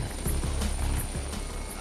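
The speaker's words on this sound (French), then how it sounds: "c'est l'hélicoptère qui nous conduit au-dessus de la zone de recherche" Rescue helicopter flying on autopilot over a search zone at sea, its rotor and turbine producing a steady, loud, continuous drone with a rhythmic beating throughout.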